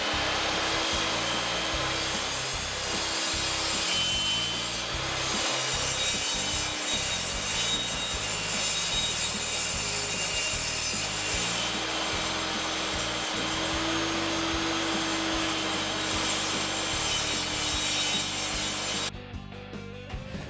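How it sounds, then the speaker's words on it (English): Edges of glued pallet boards being shaved with a power tool, a steady loud whining grind that runs continuously with slight variation in pitch, close by and alone. "I'm going to go ahead and shave off the edge of these boards"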